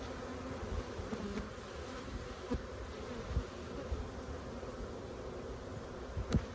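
A steady, dense buzz of many honey bees fills the air around a hive, with a few brief knocks and bumps close by.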